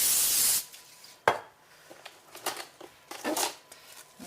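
Cooking spray misted onto plastic wrap for raised donuts, one loud hissing burst at the start, followed by light crinkling and handling of the plastic.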